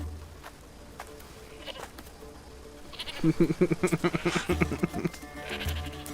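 Goat bleating in Assassin's Creed, a burst of rapid wavering bleats starting about halfway through, loud and close over a low game ambience.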